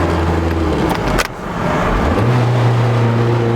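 Toyota MR2 fitted with a K24 engine and a dog-box gearbox pulling hard in second gear, a loud close engine roar that dips briefly during a shift before climbing again with a steady rising drone.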